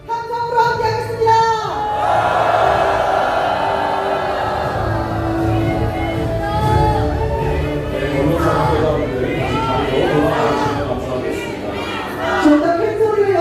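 A crowd at a Democratic Party leader rally cheers and shouts in a sustained loud roar of voices and whoops, with people chanting throughout.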